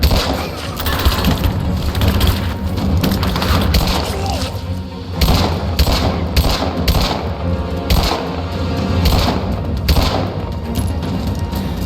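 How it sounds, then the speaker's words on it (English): Gunfire in the video game Rise of the Tomb Raider, set in Siberia: dense, loud bursts of shots and booms over a constant busy game soundscape, with music and combat effects throughout. "I got under fire! One killer already! Advancing to cover! Taking fire!"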